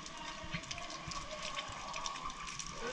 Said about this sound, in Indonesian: Sebelum kita masuk, kita kena shower tu.